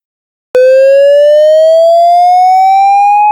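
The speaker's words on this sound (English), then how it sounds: "Mill evacuation alert." A mill's evacuation alarm siren starts abruptly, loud, and rises slowly and steadily in pitch, sustained without a break, alone in silence.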